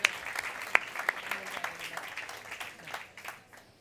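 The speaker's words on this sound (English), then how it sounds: "please let's give them a warm round of applause" Applause from a forum audience as a panel takes the stage, a fairly quiet smattering of claps with a few sharp close hand claps, tapering off over a few seconds.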